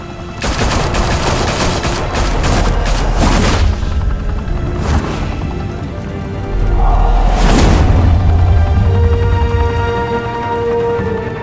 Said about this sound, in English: Now we only have to take one of you down. Open fire!